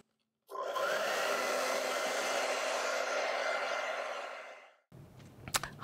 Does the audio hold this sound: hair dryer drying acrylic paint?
yes